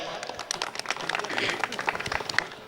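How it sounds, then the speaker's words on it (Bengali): A crowd at a Kali Puja prize-giving claps in dense, rapid applause, with a voice talking over it. "এই হাসিগুলোর জন্য একটা জোরে হাততালি হবে"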